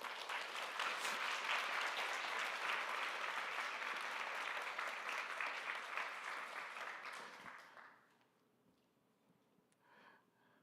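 A congregation at a Korean church's Sunday worship service in a downtown Seattle campus claps loudly and steadily for several seconds before the applause tapers off and fades into near silence.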